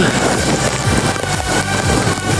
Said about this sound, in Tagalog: Ayan na kami ng ulan dito sa Naik.